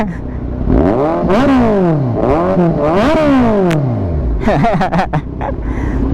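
A 2023 Kawasaki Z1000R motorcycle engine revs up and down in repeated swelling throttle blips, loud and close, rising and falling in pitch, followed by a few quick sharper revs.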